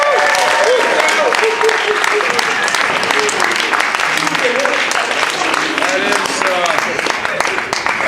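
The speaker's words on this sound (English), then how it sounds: "How about another round of applause for Angela?" Loud, dense audience applause for a speaker at a leadership and goal-setting talk, continuous throughout with scattered voices and cheers rising through the clapping.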